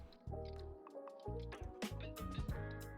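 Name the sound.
melon baller scooping balls from apple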